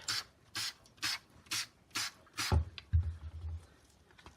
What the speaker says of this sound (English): if you spray it with clean water, you'll just spray that off